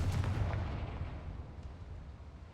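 A Confringo blasting spell explodes in the Hogwarts Legacy video game: one heavy booming blast at the start that rumbles and fades away over a couple of seconds.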